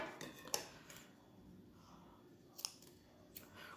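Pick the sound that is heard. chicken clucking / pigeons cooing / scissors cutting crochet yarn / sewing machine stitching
scissors cutting crochet yarn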